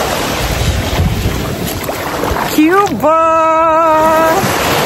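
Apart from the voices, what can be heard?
sea waves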